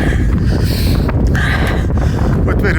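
Cold wind buffeting a microphone at about 8,300 feet on Mount Williamson during a day hike, a steady loud roar with broadband rumble and gusty swells throughout, no other sounds standing out.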